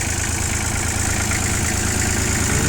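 A Hinomoto C144 compact tractor, fitted with a rotary tiller, idles steadily with a low, even diesel rumble that stays constant and close throughout, with no talk over it.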